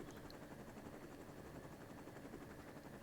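Helicopter in a VBS4 simulation, a steady broadband rotor and engine drone holding even throughout at a low level with no talk over it.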